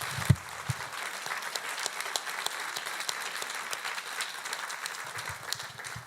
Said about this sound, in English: Why don't we give these guys another round of applause?